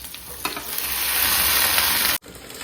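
Onion hits hot oil with okra already frying in the pan, giving a loud, steady sizzle that swells and holds for about two seconds and then cuts off abruptly, leaving a softer hiss.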